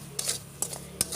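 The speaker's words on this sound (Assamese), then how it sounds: "আৰু এইখিনি ভাজি থাকিব, অলপ সময় ভাজিব," Ground spices being stirred as they fry in a pan for a sweet Indian jujube pickle: three quiet scraping strokes of a spoon across the pan over a faint, steady background hum.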